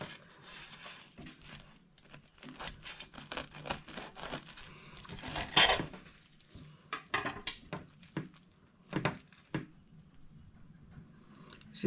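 Knife slicing through a breaded roll of sandwich bread, charcuterie and cheese on a plate, a quiet series of crisp crunches and scrapes, irregular and close, with a sharper clink of blade on plate midway.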